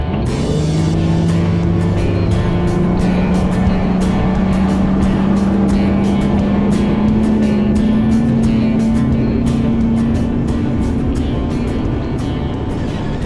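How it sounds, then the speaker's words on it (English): Bass boat outboard motor running steadily on Lake Mohave, a loud, close engine drone that rises slowly in pitch, with wind buffeting throughout. "We're idling out past the no wake zone, and then it's time to go."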